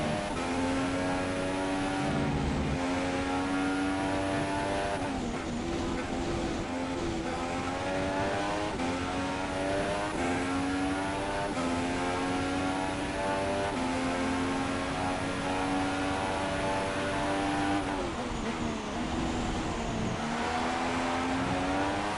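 Formula 1 car engines in an F1 racing game at the Bahrain circuit whine loudly and continuously, pitch climbing and dropping through gear changes as the cars race, with no talking.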